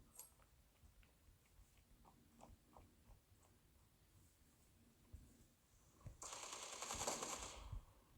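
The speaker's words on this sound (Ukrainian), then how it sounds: "У мене хтось ще й стріляв, хто?" Scattered clicks lead into a sharp burst of rapid video game gunfire lasting about two seconds near the end, with quiet sounds before it, during a robbery mode match.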